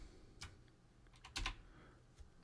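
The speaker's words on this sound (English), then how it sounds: "Maybe I'm banging out the keys too hard." A few sharp, irregular keystrokes on a computer keyboard, struck hard and close, with a brief cluster of quick taps near the middle over quiet room noise.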